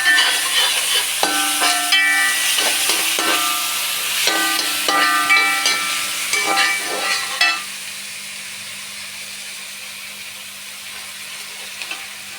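Onion frying with garam masala, chili powder and turmeric in a pan for kothu porotta: a steady close sizzle with rhythmic scraping stir strokes through the first half, then a softer continuous hiss.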